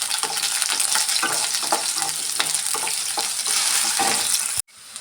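Onion and 5–6 garlic cloves fry in oil for a fresh field-bean (avarekalu) saaru. A dense, close sizzle runs throughout with rhythmic stirring strokes, then cuts off abruptly near the end.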